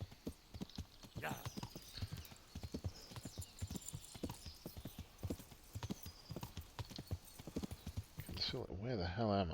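Steady clip-clopping hooves of a ridden horse on a trail in Kingdom Come: Deliverance, close and rhythmic, with someone talking over them and the hoofbeats ending near the end.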